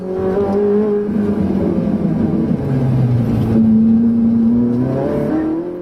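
A Ferrari sets off and accelerates, its engine a loud, close, steady drone whose pitch climbs, dips at a gear change and climbs again over several seconds.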